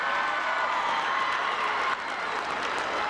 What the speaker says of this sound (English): Ladies and gentlemen, let's give a big round of applause to both of these teams